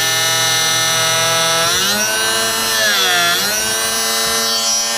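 A Drill Doctor sharpener grinds a drill bit, giving a loud, sustained high-pitched whine with shifting tones as the bit is worked against the wheel, steady for several seconds with no talking.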